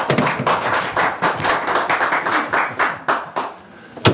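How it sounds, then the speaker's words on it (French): Canned applause played from a studio control room on a French TV talk show, a steady wash of many hands clapping throughout, fairly loud and alone with no talk. "Peut-être mettez des applaudissements, s'il vous plaît, des applaudissements"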